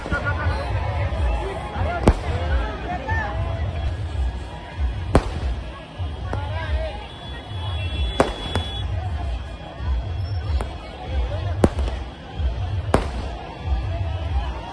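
Fireworks and firecrackers going off to welcome a political road show, with sharp cracks and bangs at irregular intervals over a continuous crowd hubbub, loud and close.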